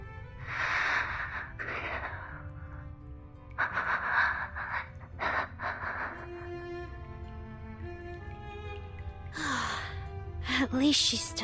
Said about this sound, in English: At least she's still breathing.